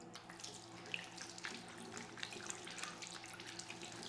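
Water from a tap runs and splashes softly as arms are washed during wudu ablution, a fairly quiet, steady flow with small irregular drips and splatters throughout and no speech.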